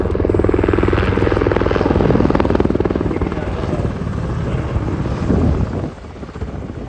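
A helicopter at an airshow makes a loud, throbbing rotor beat that thuds continuously up close, easing off slightly toward the end, with commentators talking over it.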